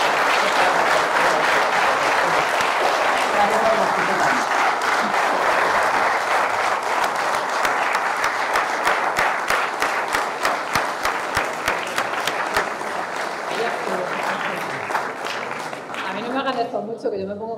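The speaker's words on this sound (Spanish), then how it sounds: "les agradecería que le den un fuerte aplauso" A lecture audience gives strong, sustained applause that holds steady for most of the stretch, then thins into scattered claps as it fades, with a voice rising briefly at the close.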